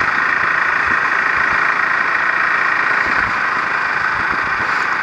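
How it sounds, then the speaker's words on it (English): A KTM RC390 motorcycle engine idles steadily and close after sitting unused for three months, giving a continuous buzzing hum with a faint irregular low chuffing beneath, alone without talk. "right now I'll be taking the bike for a short spin around my hometown"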